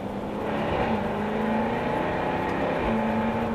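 A Jaguar XE S drives fast, its engine a sustained, fairly loud drone with a rising and shifting tone and steady road roar, heard from inside or close by with no one talking.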